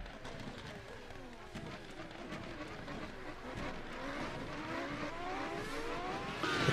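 Race car engines in a racing video game whine and rev at Circuit Gilles Villeneuve, pitch rising and falling as cars accelerate, loud and continuous with a voice faintly underneath.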